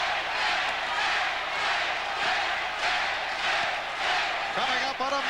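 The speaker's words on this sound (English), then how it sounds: "Crowd chanting for Tate." A boxing arena crowd chants for Tate in a rhythmic, swelling pulse of massed voices, loud and sustained, with a commentator talking over the top.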